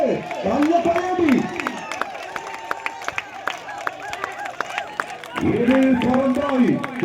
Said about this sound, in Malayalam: കൈയടിച്ച് നല്ല കൈയടി